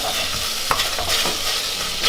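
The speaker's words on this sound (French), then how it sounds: "on va faire colorer les concentrés de tomate avec les oignons" Onions and tomato paste frying in a pan, a steady close sizzle with a few scraping stirs of a utensil against the pan breaking through.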